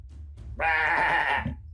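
A person imitates a sheep's bleat with one loud, quavering, nasal call of about a second, close and alone, during a Dungeons & Dragons tabletop session.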